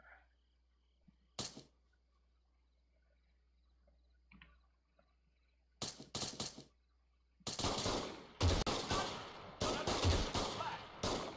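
Sniper fire in the military shooter Arma 3: a few isolated sharp cracks spaced apart, then a dense run of loud overlapping shots and reports toward the end, with little talk.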